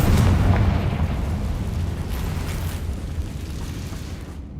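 Spell explosions boom in the Hogwarts Legacy video game, a loud sustained rumbling blast that slowly fades over a few seconds.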